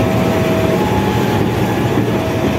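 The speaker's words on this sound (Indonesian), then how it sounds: "CC206 1357 sebagai lokomotif pelangsir Bogowonto" A CC206 diesel locomotive hauls the Bogowonto passenger train past during shunting to a washing track, a loud, steady rumble with rolling wheel clatter and a faint engine tone close by.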